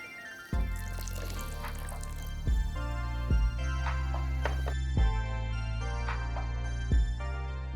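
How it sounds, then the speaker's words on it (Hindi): Water poured into ragi (finger millet) pancake batter gives a few soft drips and liquid splashes over steady background music. "अब हम इसमें थोड़ा पानी बढ़ा लेते हैं।"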